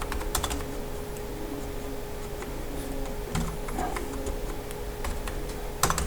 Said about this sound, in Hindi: अब जैसे नंबर टाइप किया।